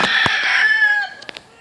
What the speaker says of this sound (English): Those are our chickens.